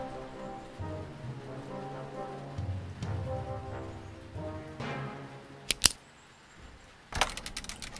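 Steady rain falls through the rainy season, a soft continuous patter under low rumbling tones, with a few sharp metallic clinks near the end.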